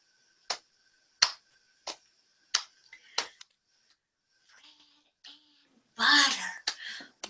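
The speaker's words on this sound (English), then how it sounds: "we'll do our hello clap" Children and adults at a winter storytime do a hello clap, a string of about six sharp, evenly spaced claps, followed by a few softer sounds and a brief burst of voices at the end.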